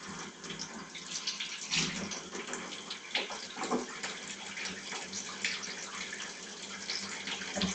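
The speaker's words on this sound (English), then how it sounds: "if you wash your hands with soap instead of just using water" Hands are washed with soap under a running tap, giving a continuous splash and trickle of water with small scrubbing variations, close and moderately quiet, and no one speaks.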